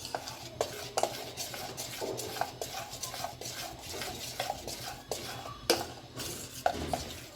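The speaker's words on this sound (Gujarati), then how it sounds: "હવે આપણે બેટરમાં જરીક ગરમ તેલ નાખશું। થોડુંક જ નાખીશું। હવે આને હલાવી નાખશું." Vada pav batter being stirred in a bowl after a little hot oil is added, with repeated soft scraping and occasional sharp clinks of a utensil against the vessel, fairly quiet and close.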